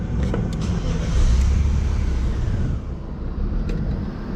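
BMW E36 engine running just after start-up, a steady low rumble with broadband noise that swells slightly in the first seconds and then holds evenly, close and fairly loud, with no talking.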